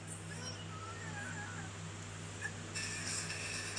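A cat meows faintly a few times over a steady mechanical hum and a background voice, with a brighter burst of noise near the end.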